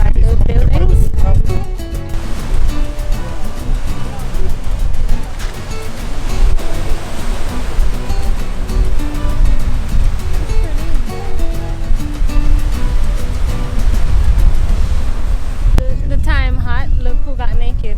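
Ocean surf and wind on a Mexican coast, a loud continuous roar of breaking waves and gusting air throughout, with a person talking over it.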